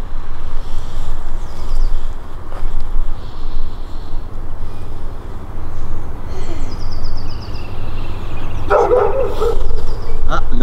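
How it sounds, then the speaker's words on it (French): A dog barks at another dog across clear water, a few short barks standing out over constant outdoor background noise near the shore. "Nomade, elle a vu un chien de l'autre côté."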